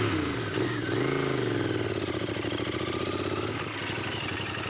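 A motorcycle engine runs close by at a steady, throaty idle, rising briefly in a mild rev and then settling back, with continuous rhythmic pulsing and no talking.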